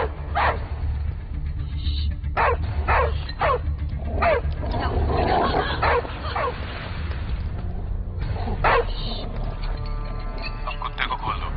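A dog barks in several short, sharp bursts, fairly close and moderately loud, mixed with people talking and some background noise.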